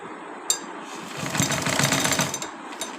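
A sewing machine stitching a seat cover runs in a rapid mechanical chatter that swells for about a second and a half, close by, with a few light clicks before and after.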